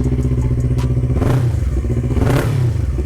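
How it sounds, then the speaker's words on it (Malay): A Yamaha R25 motorcycle fitted with an MSH G6 full exhaust system revs up close, its deep, bassy exhaust note swelling in two sharp bursts over a steady idle. "Untuk motor R25 ni dah pasang MSH G6 full system."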